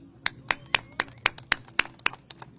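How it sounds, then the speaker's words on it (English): Applause for Pablo Alvarado at a lawyers' press event, sounding here as about a dozen distinct, evenly spaced sharp claps from a single nearby pair of hands, with quiet murmur underneath. "Let's have a round of applause,"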